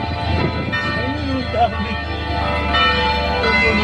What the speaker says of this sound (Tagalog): kampana.